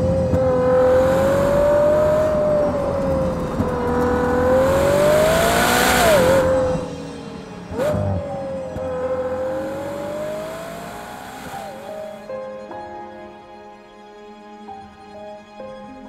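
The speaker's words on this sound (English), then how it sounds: "that is the sound of the brand new Ferrari Purosangue" A 2024 Ferrari Purosangue V12 revs loudly up and down in smooth sweeping rises, with a sharp pop between pulls before settling to a fading idle.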